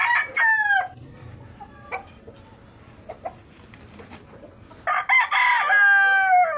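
A rooster crows loudly near the start and again near the end, with softer clucks and scattered chicken calls in between, on a muddy farm yard after rain.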